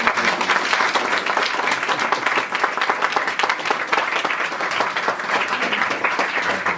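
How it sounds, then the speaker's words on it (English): An awards ceremony audience at a hotel in Youghal breaks into sustained, dense applause, many hands clapping steadily and fairly loud, with no speech over it. "I think they deserve a huge round of applause."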